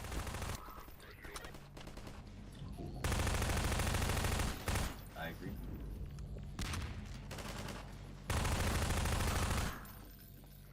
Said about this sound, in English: Just listen to how a Combine soldier's gunshots change as you drive towards them.